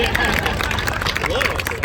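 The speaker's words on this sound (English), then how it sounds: "Let's get some applause for that." Crowd applause at the 2022 Pulaski Days flag raising, an outdoor gathering; steady dense clapping from many hands with light cheering mixed in, moderately loud and continuous.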